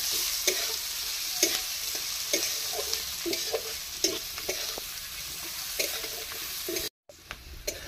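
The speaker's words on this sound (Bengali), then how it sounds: "পেঁয়াজগুলো একটু লাল লাল ভেজে নেব।" Onions frying in a pan until browned, a steady sizzle with repeated scrapes and stirs of a spatula at a regular rhythm, close and moderately loud, no talking.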